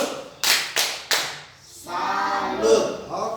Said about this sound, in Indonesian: kita tepuk tangan untuk Sandra